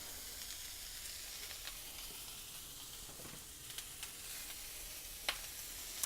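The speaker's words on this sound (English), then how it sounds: "So I'm going to go ahead and scramble up some ground beef." Ground beef is scrambled in a pan and sizzles softly with a faint, continuous frying hiss, broken by a few light clicks and scrapes from the utensil, with no talking.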